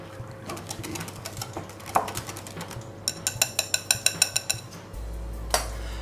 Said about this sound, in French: je verse sur mon chocolat, je remue